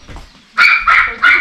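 A pet dog at a country property barks three times in quick succession, loud and close, with short pauses between the barks.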